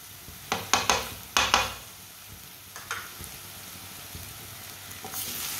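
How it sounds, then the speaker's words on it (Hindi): Crushed ginger and garlic fry in a pan with a steady sizzle, broken by several sharp clanks and scrapes of stirring close up, fading to a softer crackle. "अदरक और लहसुन को भी 1 मिनट के लिए पका लेंगे"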